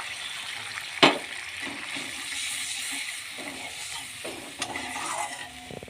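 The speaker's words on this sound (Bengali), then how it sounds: "অল্প জল দিচ্ছি।" Water poured into a pan of fish malai curry masala, already fried down with salt, cumin powder and milk, making a steady liquid hiss and bubbling with a sharp clink near the start, close by and moderately loud with no talking.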